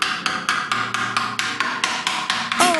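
A hammer strikes a plastic ring being seated into a custom subwoofer enclosure, about a dozen sharp, evenly spaced loud blows in steady rhythm, close and unaccompanied by talk.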